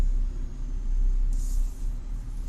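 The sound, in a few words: Jeep engine rumbling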